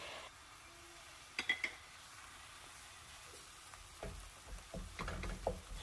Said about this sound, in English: I'm just going to continue to combine and cook the ground